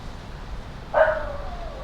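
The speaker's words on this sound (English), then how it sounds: "The dog next door has the ugliest bark, doesn't he?" One short, rough dog bark rings out at a moderate distance over a low, steady background hum.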